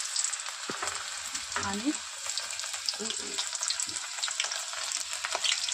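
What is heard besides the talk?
onion frying in hot oil in a pot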